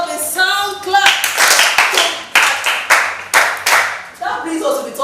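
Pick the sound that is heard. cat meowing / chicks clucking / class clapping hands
class clapping hands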